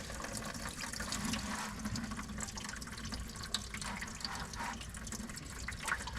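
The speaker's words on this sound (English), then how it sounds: "We're not going to get to keep all of that coolant, but we'll get to keep some of it." Engine coolant from a 1999 Dodge Ram pouring into a bucket, a steady close splashing trickle of liquid with small drips and knocks throughout, no voices.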